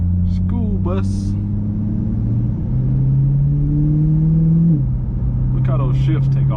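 A 2021 Chevrolet Corvette C8 Stingray engine revs up steadily, dropping pitch at each gear change and climbing again, with people talking over the loud roar.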